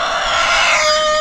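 A hen on a homestead squawks angrily in one loud, close, drawn-out harsh call that sounds alone.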